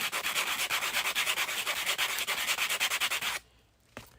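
Rapid rhythmic rubbing strokes of a sanding sponge on a 3D print scrub back and forth for about three seconds, then stop, followed by a brief tap.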